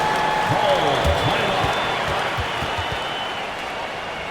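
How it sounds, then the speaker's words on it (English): Arena crowd applause rolls on steadily in the NBA 2K24 basketball game during a Celtics versus Mavericks timeout, a broad, even wash of clapping beneath a commentator's voice. "please give a big round of applause for your Celtics youth and team"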